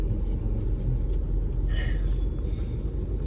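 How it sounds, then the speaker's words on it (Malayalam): Vehicles sit idling in a stalled traffic jam of cars and buses, a steady low engine rumble filling the scene with a brief hiss midway, no talking. "നമ്മൾ പോകുന്നത് ബ്ലോക്കിലാണ് ഗൈസ്. ഒരു വണ്ടി പോലും നീങ്ങണില്ല."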